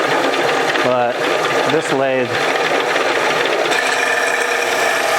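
A Tormach 1100MX machine working steel, turning down a stem with light cuts, gives a steady, loud grinding hum that runs throughout, while someone talks briefly over it partway through.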